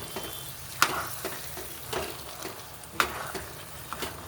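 Carrot halwa with ghee and dry fruits sizzles softly in a pan while being mixed, with a few sharp spoon-against-pan clinks and scrapes over the quiet frying.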